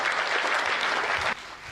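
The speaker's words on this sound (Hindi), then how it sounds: "थोड़ा तालियों का उत्सव कर दीजिए" Audience clapping at a comedy show, a brief burst of dense applause that holds steady and then drops off abruptly near the end.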